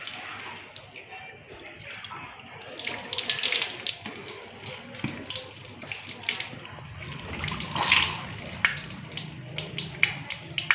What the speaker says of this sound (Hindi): अपने चेहरे को धोएंगे, जो वज़ू का पहला फ़र्ज़ है।